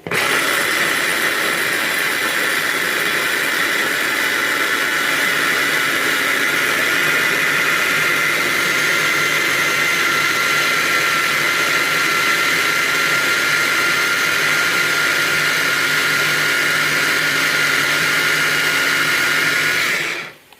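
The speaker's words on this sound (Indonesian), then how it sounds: "Langkah selanjutnya kita halusin dulu kacangnya yang udah kita iniin ya, yang udah kita cuci bersih tadi" A blender grinds washed, peeled peanuts with a loud, steady motor whine that runs without a break for about twenty seconds and then cuts off abruptly.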